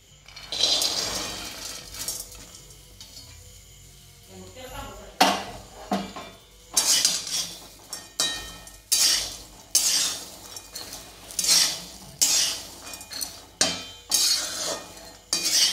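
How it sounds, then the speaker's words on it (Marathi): Horse gram roasting dry in a pan, stirred with a utensil in steady, rhythmic scraping strokes that come close and clear, with short clinks against the metal between them. "आता ही पहिल्यांदा भाजून घेऊया बघा।"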